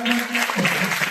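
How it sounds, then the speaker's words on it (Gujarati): A gathering audience in Punitnagar claps in a short burst of applause, with a voice speaking over it. "ભરતભાઈને આપણે વધારે તાળીઓથી આપણે પુનિતનગરના"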